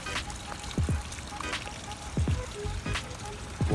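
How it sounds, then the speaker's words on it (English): A backyard creek flows steadily with a constant watery wash, broken by a few louder pouring splashes and gurgles that stand up from the stream noise. "Creek booming."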